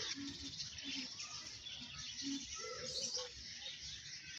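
Faint bird calls and chirps scattered over a quiet park background, distant and intermittent.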